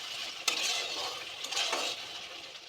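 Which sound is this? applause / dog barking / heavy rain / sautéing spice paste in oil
sautéing spice paste in oil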